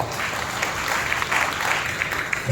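A church congregation claps during a Sunday worship service, a dense, steady patter of many hands filling the hall for a few seconds.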